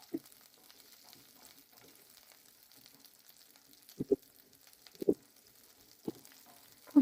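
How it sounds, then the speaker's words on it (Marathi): Bell pepper frying in oil in a pan for a homemade veg Manchurian, giving a faint, steady sizzle punctuated by a few sharp taps and clinks spaced about a second apart. "आता यामध्ये आपण ही शिमला मिरच टाकून घेऊया."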